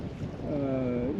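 Steady wind rushes over a sailing boat in fair weather on sheltered water behind a reef, a soft continuous noise with a faint tonal whistle in the rigging.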